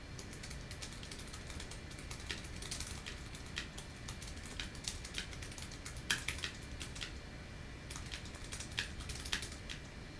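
Rapid, uneven clicking of keys on a computer keyboard used through RustDesk remote desktop on a Raspberry Pi 4, continuous typing up close with short pauses and no voices.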